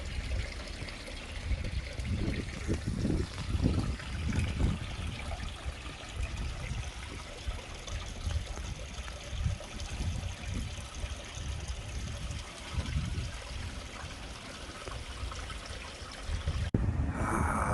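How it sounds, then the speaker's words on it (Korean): Water pours out strongly outdoors on a walk in Jeju, a steady rushing, splashing gush with uneven surges that lasts throughout, heard close and fairly loud with no speech. "야, 물 많이 나오네. 그냥 싹 나오네."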